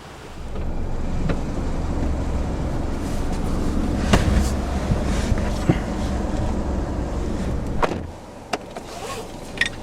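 A 2013 Hyundai Sonata with a 6-speed transmission drives along, heard from inside the cabin as a steady low road and engine rumble with wind noise, which drops away near the end, followed by a few small clicks.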